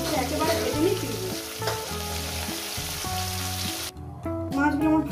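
Small khoira fish frying in hot oil, a steady close sizzle and crackle with a brief dip near the end before the spitting resumes, while a low voice talks throughout.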